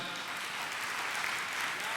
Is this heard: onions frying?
no